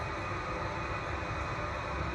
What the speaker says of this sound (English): What you're actually hearing, the noise you're hearing, is this cab is air conditioned.